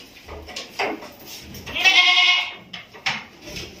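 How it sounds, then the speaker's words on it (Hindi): Hyderabadi Nasi goat, a breeder buck with four fresh teeth and long ears, giving a few close, loud bleats with a drawn-out wavering cry in the middle. "नेक्स्ट में ये एक हैदराबादी बकरा है नासी में।"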